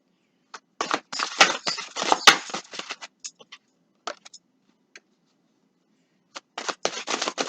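Tarot cards being shuffled by hand up close, crisp riffling bursts in two spells separated by a few scattered taps and a quiet pause, with no talking.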